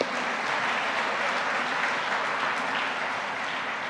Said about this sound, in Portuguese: Se você entendeu, dê uma salva de palmas a Jesus.